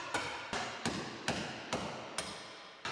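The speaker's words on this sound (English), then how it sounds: "it's time to hammer the rods down through the table" Steel rods hammered down through holes in a boat frame mold table, seven sharp ringing blows at an even, unhurried pace, close and loud with brief decay after each strike.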